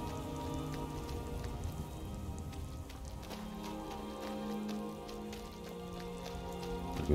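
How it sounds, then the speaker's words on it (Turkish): Steady rain in the video game Skyrim patters on surfaces, a constant soft hiss of droplets with faint tonal background sounds underneath. "Bugün kasvetli ve yağmurlu bir hava var."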